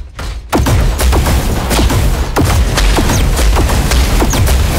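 Rapid gunfire in the mech shooter Super Mecha Champions, loud and dense, sharp repeated shots and thuds in quick bursts running almost nonstop after a short quiet start.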